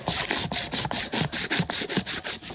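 A part for a BUILT 212 engine is sanded by hand with sandpaper in quick, even back-and-forth strokes, about a dozen close, gritty rasps in a steady rhythm with no talk.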